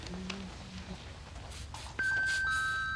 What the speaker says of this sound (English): I hardly think he'd ring the bell.